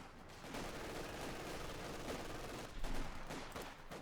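Bursts of machine gun fire crackle through a Company of Heroes 2 battle between Wehrmacht and British forces, dense rattling volleys over a busy wash of combat noise, with a louder burst near the end.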